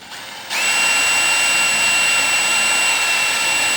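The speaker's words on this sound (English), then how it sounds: "then we're just going to drill all the rest" A power drill whines steadily while boring holes, a brief quieter start giving way to a loud, continuous high-pitched motor tone that holds for several seconds.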